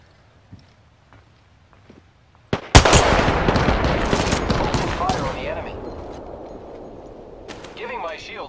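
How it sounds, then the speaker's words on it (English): Enemy gunfire in the shooter Apex Legends, with a few faint footsteps, then a sudden loud burst of rapid shots and impacts that trails off into scattered fire and crackling over several seconds. "The enemies are shooting."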